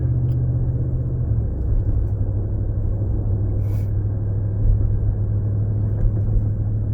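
A 2019 Ram 1500 pickup with the 5.7 HEMI V8 and a Solo Performance MR 300 muffler delete accelerating hard from a dead stop, its loud, deep engine drone rumbling steadily and close with no talking.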